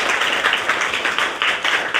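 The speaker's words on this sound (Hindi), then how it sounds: "दोबारा से इसके लिए एक और ताली बजाओ" Children in a school class clap for a classmate: a steady, dense patter of small hands applauding together for about two seconds, close and lively, with no talk over it.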